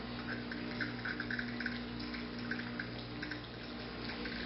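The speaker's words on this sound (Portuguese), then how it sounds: "eu tirando a água quente, ele já começa a circular mais água pela máquina" Hot water streams steadily from a coffee machine's hot-water adapter, a continuous close-up hiss and trickle with a faint steady hum underneath, alone without talk.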